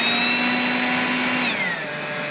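A DEWALT 20V XR brushless DCBL722 battery leaf blower runs loud and steady close up as a high whine and rushing air, then its pitch drops as the speed eases off, with no voices.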